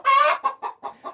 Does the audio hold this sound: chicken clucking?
yes